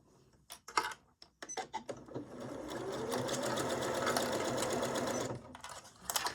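A sewing machine stitches fabric for a faux wrap top, starting with a few slow clicks, then running in a steady, close mechanical whir for about three seconds before slowing to a stop, with a little handling noise.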